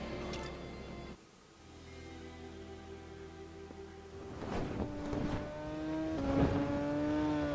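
Kawasaki superbike engine in the VR racing game VRider SBK, revving steadily with rising and falling pitch as gears change, loud and continuous with a brief dip early on.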